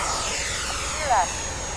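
A radio-controlled model airplane drones steadily overhead at an airfield, its engine whine briefly rising in pitch near the end, with people talking over it.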